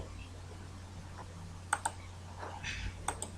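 A few scattered keystrokes tap on a computer keyboard while PHP code is being written, with sparse clicks in small clusters over a quiet room hum.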